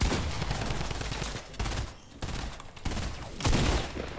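Rapid video game gunfire fills the clip in dense, loud bursts with brief gaps, rattling like a sustained fusillade of automatic weapons.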